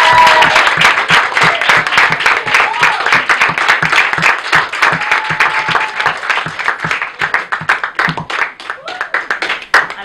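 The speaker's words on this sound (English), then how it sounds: "I really want you all to give yourselves a round of applause." Sustained audience applause at a national championship selection event, dense clapping from a crowd that stays loud for most of the stretch before thinning into scattered claps near the end.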